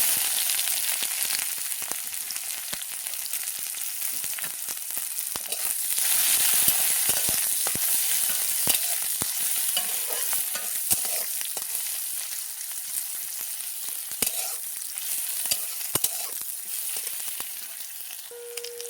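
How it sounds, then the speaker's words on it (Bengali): Onions fry in oil with bay leaves and a dried chili, a continuous close crackling sizzle dotted with sharp pops and occasional stirring, with no voices over it. "পেঁয়াজটা লাল লাল করে ভেজে নিয়েছি"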